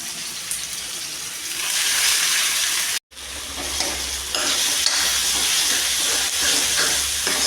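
Pakoras frying in hot oil give a steady, loud broadband sizzle and hiss that runs almost the whole time, broken by a brief dropout near the middle, with no talking.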